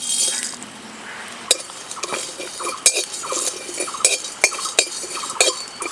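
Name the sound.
stirring and roasting cardamom, coriander and cumin in pan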